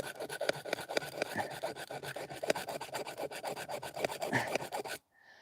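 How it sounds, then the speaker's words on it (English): A hacksaw cuts through a 1 inch metal pipe in fast, rhythmic back-and-forth rasping strokes, close and steady, ending abruptly. "As soon as I get done cutting through this 1 inch of pipe here"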